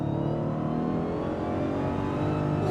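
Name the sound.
Dodge Demon 170 engine revving on throttle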